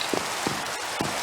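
Rain falls at night in a zoo video game, a steady loud hiss of drops on surfaces with a few soft pattering splashes standing out at intervals.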